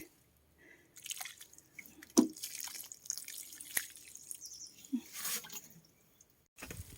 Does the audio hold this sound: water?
yes